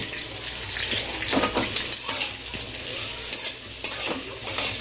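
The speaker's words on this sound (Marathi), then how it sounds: "आधी कांदा भाजूया थोडासा" Onion sizzles and crackles in hot oil in a pan, prepared as the base for a dhaba-style egg curry gravy, with steady frying noise and occasional stirring scrapes throughout.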